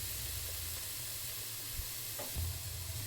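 Vegetables for egg fried noodles fry in a hot pan with a dense continuous sizzle, close and loud, broken by a few scraping stirs near the end and no voices.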